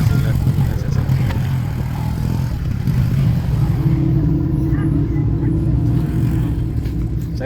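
Road traffic rolls past near a crowded church fiesta at Divine Mercy Parish in Sinawilan, Digos City, a continuous close rumble of cars and motorbikes with engine drone throughout.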